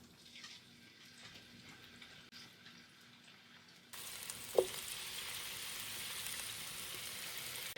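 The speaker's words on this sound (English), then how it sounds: "Now while my chicken is in there and it's cooking" Chicken wing pieces fry in hot oil, a faint background sizzle that swells into a louder, steady crackle partway through, with a brief clink near the middle and no talk.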